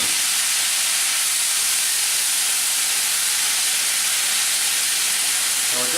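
Strained apples sizzling steadily in a pan of melted sugar and butter, a continuous bright hiss that holds evenly throughout without pause.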